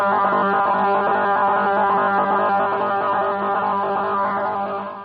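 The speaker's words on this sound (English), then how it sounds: "These are Russian jammers." Russian shortwave radio jamming fills the air as a dense, steady wall of rough buzzing noise with a throbbing, churning texture, loud and continuous, fading slightly at the end, with no voices.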